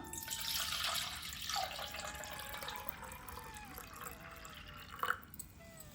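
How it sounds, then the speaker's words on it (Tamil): Clean water poured into a ritual kalash pot, a soft, faint trickling splash that carries on steadily, with a small clink near the end and no talking. "கலச சொம்பில் வந்து சுத்தமான ஜலம் விட்டுக்கலாம்"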